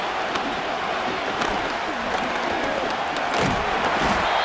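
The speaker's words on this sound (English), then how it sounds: "The crowd cranking it up another notch before 3rd and long." A football stadium crowd in the video game Madden 25 roars continuously, loud and dense, building in intensity with scattered thuds and shouts mixed into the steady cheering.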